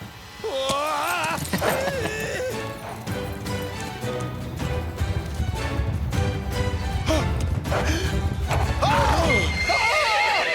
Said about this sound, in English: Giddy up, Tornado. Let's go